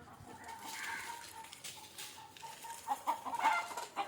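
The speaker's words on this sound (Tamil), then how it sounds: "பாருங்க எல்லாம் வேற கோழி." Country chickens cluck softly at feeding time outdoors, a few short clucks standing out over a steady low murmur of background noise.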